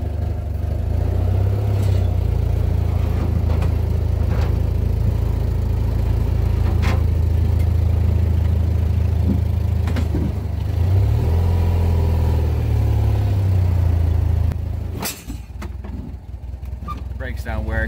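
A 1967 Citroen 2CV AZAM Export with failing brakes and worn rear tires runs steadily as it is moved into its parking spot, a close, continuous low engine drone with slight rises, then cutting off abruptly near the end.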